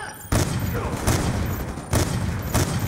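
Dense in-game gunfire from Call of Duty Black Ops 2, a sustained loud fusillade of overlapping shots and bursts with sharp surges near the start and again near the two-second mark.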